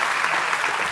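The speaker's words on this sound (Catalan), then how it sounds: "Fort aplaudiment pel Pep Torres." Steady, dense applause from an audience at an awards ceremony, loud and continuous for the whole moment with no voices rising above it.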